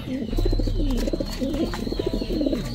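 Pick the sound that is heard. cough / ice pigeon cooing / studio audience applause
ice pigeon cooing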